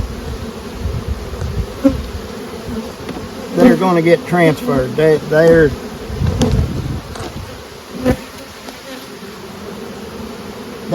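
Upset honey bees swarm and buzz around frames being moved into a small swarm, a dense, steady drone close by. Several people talk over it.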